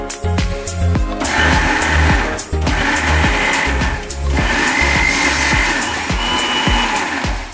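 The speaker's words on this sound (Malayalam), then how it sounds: "ഇത് മിക്സിയിൽ അടിച്ചെടുക്കാം." An electric mixer grinder blends a salted mixture for a Kerala fish dish in short loud whirring bursts, stopping and restarting in pulses, with no talk over it.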